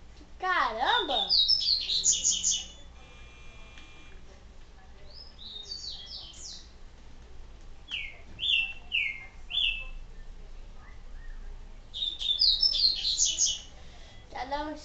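Three small birds tweeting in the Resident Evil 4 video game, repeated bright high chirp phrases spaced a few seconds apart, moderately loud over a faint steady background.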